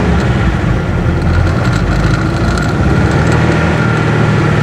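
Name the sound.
Mazda pickup truck 2.5 engine revving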